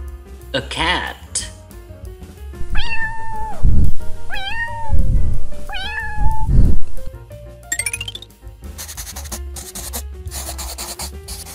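A cat meows several times, drawn-out rising and falling cries, close and fairly loud, with rustling and handling noises before and after.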